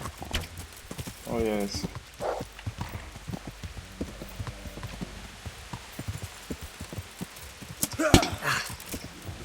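Horse hooves clip-clop in Kingdom Come: Deliverance, a rapid, irregular stream of soft, close thuds running the whole way under a man's speech, with a sharper clatter and burst of noise near the end.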